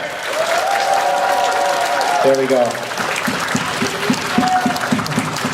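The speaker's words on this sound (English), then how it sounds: "Give yourselves the biggest round of applause that you possibly can." A convention crowd at a fan festival's closing ceremony in Toronto applauds loudly and steadily, with whistles and cheers rising through the din; a voice speaks briefly near the end as the clapping continues.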